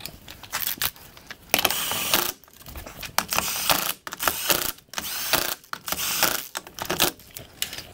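Ratchet wrench clicking in bursts on car brake parts during a full brake job, a fast, loud mechanical rattle starting and stopping throughout, with no talk.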